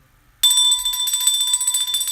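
A handheld bell rung as a celebratory boom ringer starts abruptly after a brief quiet and rings continuously with a rapid, bright metallic jangle, loud and close, with no talk over it.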